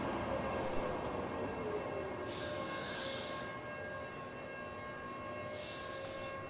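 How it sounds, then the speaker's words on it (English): Tram passing on the rails in Sheffield, a continuous rumbling roll with steady metallic wheel tones and bursts of high hiss or squeal, fairly distant and even throughout, with no voices. "They have trams here."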